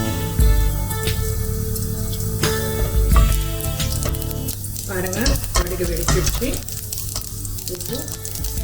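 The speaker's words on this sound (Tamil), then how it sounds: "சிம் பண்ணிக்கிறேன் நல்லா சிம் பண்ணிக்கோங்க" Tempering for a snake gourd curd pachadi simmers and sizzles in a pan while being stirred, a steady close frying hiss with scraping stir strokes throughout.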